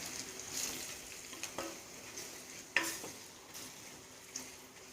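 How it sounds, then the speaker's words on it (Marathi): Spice masala fried and stirred in a pan for a Bhandari-style sour-spicy drumstick dal, with a steady low sizzle broken by scraping strokes of the spoon against the pan and a sharper clink near the middle. "आता मसाला छान परतून घेऊया."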